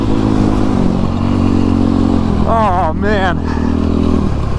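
Motorcycle engine with an uncorked exhaust and a new Vortex ECU tune, droning steadily near and loud while shifting up through the gears into fifth, with a brief voice over the engine near the end.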